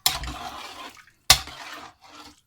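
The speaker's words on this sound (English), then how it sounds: "I'm going to give it a nice stir" Chicken curry being stirred in a pot after kettle water is added: two sharp sloshing swirls of liquid, then a shorter, softer slosh, each trailing off into quiet.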